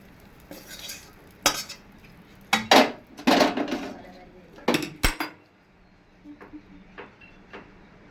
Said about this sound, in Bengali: এবার আমি একটা পাত্রই ঢেলে নিচ্ছি